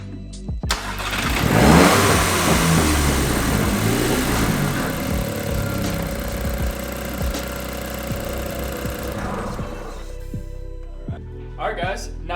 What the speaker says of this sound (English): And now I'm going to start the car.